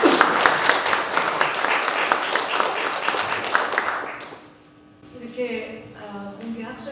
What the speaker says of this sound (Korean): 나오실 때 꼭 박수로 한번 환영해 주시면 감사하겠습니다